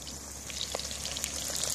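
Onion frying in oil inside a cast-iron kazan being seasoned, a steady broadband sizzle with soft crackles and a few pops, close and continuous with no talking.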